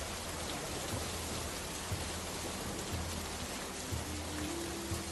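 Steady rain pours on a stormy night, a dense even hiss with soft low rumbles underneath, continuous and close with no voices.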